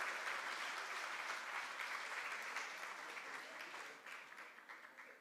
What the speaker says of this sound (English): Give Jos Van Dyke a hand as they come.